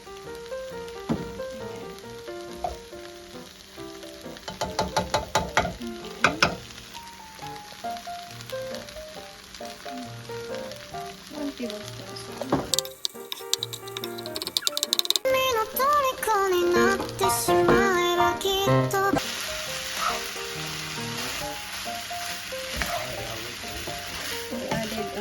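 Filipino-style fried rice sizzling and frying in a pan with oyster sauce, a steady crackling hiss with intermittent stirring and scraping, over background music, with a louder burst of sizzle partway through.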